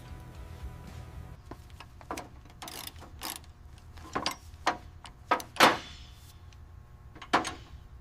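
A hand ratchet tightens bolts on an old Chevrolet G20 van during a restoration, with scattered metallic clicks and a few louder ratcheting bursts over a low background hum and no talk.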